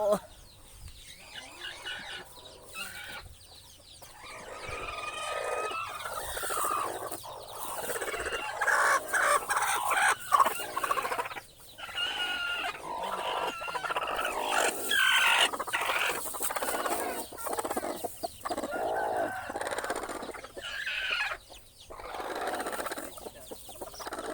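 Chickens and chicks cluck and call repeatedly at close range, with a rooster crowing, busy bursts of fowl noise, and people talking in the background.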